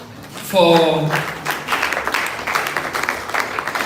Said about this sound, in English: Ladies and gentlemen, a round of applause for